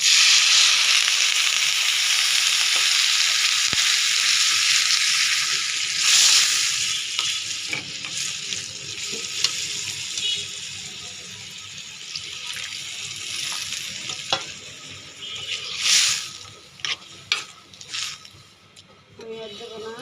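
Liquid gravy poured into a pan of frying pabda fish roe, giving a steady sizzle with stirring scrapes and a few sharp bursts toward the end.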